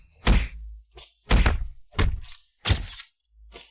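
Heavy blows land on people in a beating, five separate thuds and whacks spaced about a second apart, each sharp and close with a short ringing tail, no voices between them.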